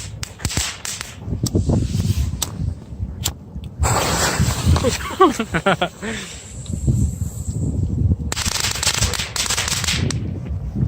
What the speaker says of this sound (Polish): Sprawdzimy sobie czy będą wybuchać w wodzie